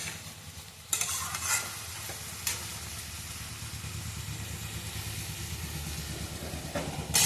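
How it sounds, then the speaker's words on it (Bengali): A chorchori of onion stalks, potato and eggplant frying in fish oil, with a continuous loud sizzle and a low rumbling hiss and occasional sharp stirring scrapes, close by and without talk. "মাছের তেল দিয়ে পেঁয়াজ কলি, আলু, বেগুন দিয়ে চচ্চড়ি"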